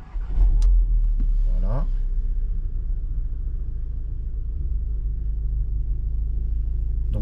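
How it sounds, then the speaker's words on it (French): A car engine cranks and catches during a battery starting test with a TOPDON BT600 tester, then settles into a steady low idle rumble, close and continuous; someone says a single word as it fires. "Donc là, il me dit de démarrer le moteur. Donc, on va le démarrer."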